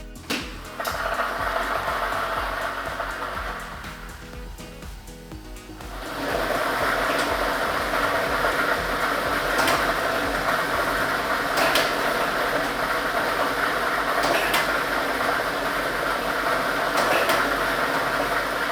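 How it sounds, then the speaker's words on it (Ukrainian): An electric lottery drawing machine runs with its air blower on, churning numbered balls in a steady, loud mechanical roar that swells after a few seconds, with faint rattling clicks of balls throughout. "І ми вмикаємо лототрон."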